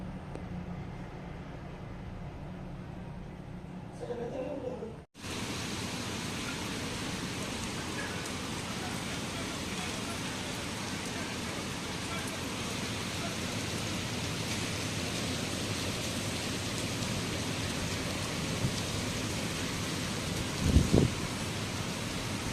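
Steady rain pours down in Kolkata as an even, continuous hiss that carries on for about twenty seconds after a short quieter start, with a brief clunk near the end and no speech.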